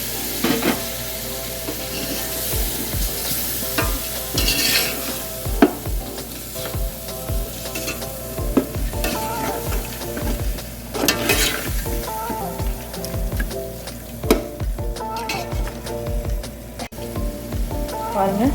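Tomatoes sauté in a pan over ginger-garlic paste for Ambur chicken biryani. A loud, continuous sizzle runs under repeated scraping stir strokes at an uneven rhythm, close to the listener, with no voices.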